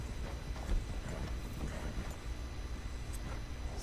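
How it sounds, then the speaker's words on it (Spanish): Horses in the video game Red Dead Redemption 2 walk with a steady, quiet clip-clop of hoofbeats over a soft background. "¿Esos son caballos? Esos son caballos."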